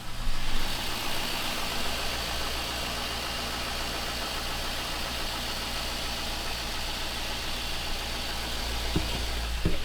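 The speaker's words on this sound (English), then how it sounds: "It's idling by itself." A Chevrolet Silverado truck engine idles steadily on its own, a close, even rumble with no voices over it, holding a constant level for the whole stretch.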